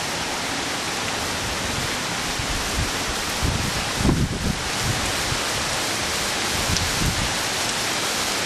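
Hurricane Irene wind and rain roar as a steady, dense outdoor wash of noise, swelling briefly with a gust near the middle before settling back to the same constant rush.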